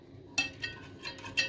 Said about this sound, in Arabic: نقلبهم على البارد